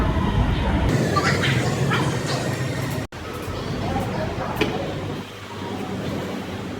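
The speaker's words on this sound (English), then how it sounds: "And here comes our next train." A subway train pulls into West 4th Street station, its steady broad roar of wheels and motors filling the platform with a brief dropout midway, while people talk nearby.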